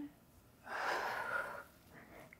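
Slow exhale during a yoga cat-cow stretch, a soft breathy rush of air lasting about a second, close and quiet, with no talking over it.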